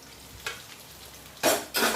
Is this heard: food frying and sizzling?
yes